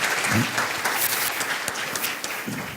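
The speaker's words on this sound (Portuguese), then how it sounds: "Uma salva de palmas novamente, professor Wagner." An audience at an administration lecture applauds the speaker, a brief fairly quiet burst of clapping with a few voices mixed in.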